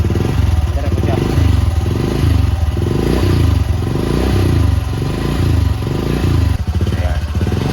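A motorcycle engine, just started after repair, runs loud and close with a rhythmic, chugging pulse and some mechanical clatter throughout.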